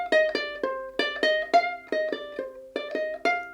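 Ukulele playing the bridge lick of a song, a short melodic phrase of bright plucked notes repeated twice in a steady rhythm, close and clear with no voices.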